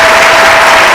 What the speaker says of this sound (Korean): 여러분 박수로 맞으시면 감사하겠습니다